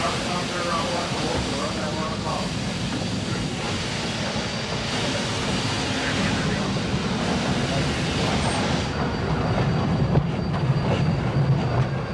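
A train runs along a mountain railroad through aspen groves, a steady rumbling roll with wheel noise building toward the end, while a voice talks over it throughout.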